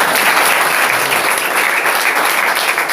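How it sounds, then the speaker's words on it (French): Audience applause, a loud continuous wash of many people clapping that holds steady throughout, with no voices over it. "Applaudissez encore pour lui."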